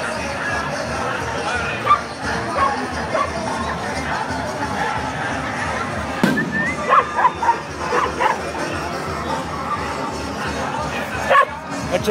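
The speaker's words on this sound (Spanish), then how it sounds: "Hay un perrito queriéndose meter." A small dog barks and yips at a street festival procession in Huajuapan, Oaxaca, with several sharp barks over a background of crowd chatter and a person talking.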